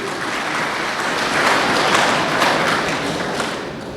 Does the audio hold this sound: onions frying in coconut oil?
no